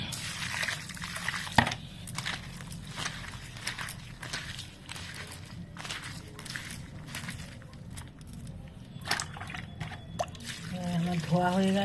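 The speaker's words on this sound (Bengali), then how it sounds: "আমি দেখো এগুলোকে মগের জল নিয়ে ভালো করে চটকে চটকে ধুয়ে নিচ্ছি।" Prawns are washed by hand with water poured from a mug, giving soft splashing, dripping and squelching close by, steady throughout, with a voice speaking under it.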